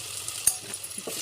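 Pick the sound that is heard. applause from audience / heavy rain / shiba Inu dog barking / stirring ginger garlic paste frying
stirring ginger garlic paste frying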